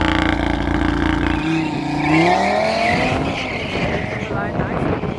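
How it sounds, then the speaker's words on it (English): A BMW 330D launches hard in a drag race at Killarney, tyres spinning and squealing loudly as the diesel engine revs. A steady roar bends into rising, screeching wheelspin, with commentary running over the top. "lots and lots of wheel spin in the right hand lane"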